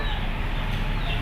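Chicken clucking mixed into a dense, steady background of farmyard noise, moderately loud and continuous throughout.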